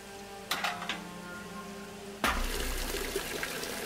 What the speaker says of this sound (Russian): Налить воды.